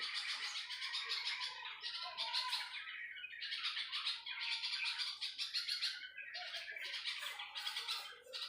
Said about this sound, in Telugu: చూడండి బర్డ్స్ సౌండ్ ఎట్లా వస్తున్నాయో, ఎంత బాగా వస్తున్నాయో సౌండ్ కదా